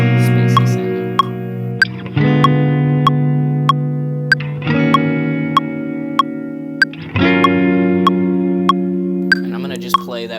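Electric guitar chords played through a Line 6 Helix ring out with a spacey, echoing reverb, punctuated by bright plinking notes that repeat at a steady pulse.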